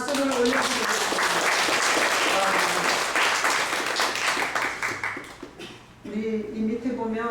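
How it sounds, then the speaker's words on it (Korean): A church congregation applauds with dense, steady clapping for several seconds, then the clapping fades out and a voice speaks. "존귀의 박수를 올려드리겠습니다."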